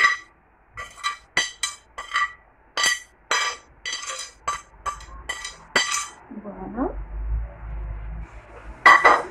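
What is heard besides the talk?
stirring food in a baking dish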